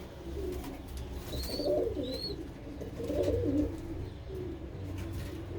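Pigeons cooing close by in a few rolling bursts, with thin chirps above them and a low background hum, no talking.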